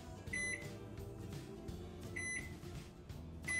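A microwave oven runs in micro mode heating a roti, giving a steady mechanical hum with a few short high-pitched beeps.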